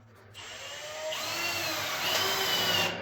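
A power tool whirs as screws are driven into mine rail, a steady rising whine that starts abruptly, grows louder midway and holds close throughout.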